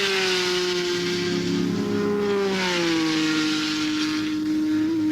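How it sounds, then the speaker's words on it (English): Race cars at top speed in the 1970 Sebring 12 Hours, a loud, sustained high-pitched engine howl from a car held near full throttle, with its pitch sagging slightly as it passes, over steady background noise. "Here the cars reach maximum speed, the fastest ones close to 200 miles an hour."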